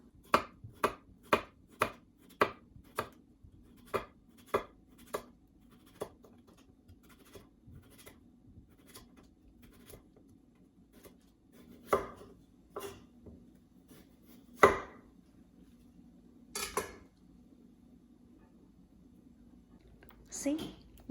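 A knife slices potato into rounds on a cutting board for bhaji, making a quick regular series of sharp, close taps at first, then slower, irregular cuts with some louder knocks, over faint background hum.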